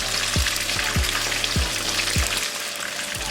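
Fish frying in hot oil in a pot for Jamaican escovitch fish, a dense close sizzle punctuated by several low thumps from the pot, no voices.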